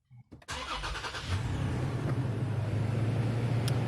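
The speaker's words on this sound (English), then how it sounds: "So let me go ahead and start the truck real quick." Toyota Tacoma pickup engine cranking and catching after a short click, then settling into a steady close idle.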